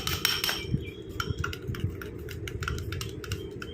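An egg-based cream mixture is beaten and stirred by hand in a bowl, giving a fast run of close, clattering utensil taps against the bowl with a low rumble beneath and no talking.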